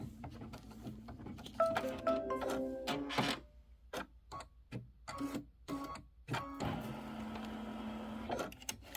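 Embroidery machine stitching the tack-down on a Christmas quilt block, a fast mechanical whirring and ticking in bursts, separated by brief pauses and sharp clicks, close and steady.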